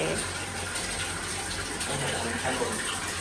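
Water gushes steadily into the lower level of a pasteurizer machine, a continuous hissing, splashing flow that stays close and loud throughout.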